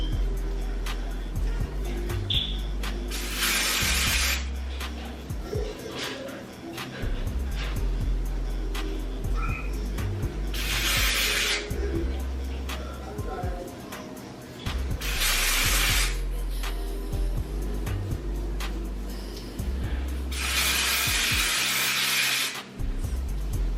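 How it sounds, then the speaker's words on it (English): Bursts of hair spray hiss onto a wig cap one section at a time, four loud sprays spaced several seconds apart, with handling noise in between and no talking. "So that's what I'm gonna do to lay my cap down. I'm gonna just spray in sections."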